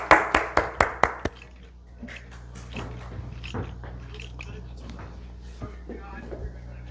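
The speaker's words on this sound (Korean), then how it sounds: "우리 하나님께 영광의 박수 드리겠습니다" A church congregation at a Sunday Advent worship service claps together: about seven sharp, loud claps in a quick, even rhythm, then quieter scattered rustling and a few voices.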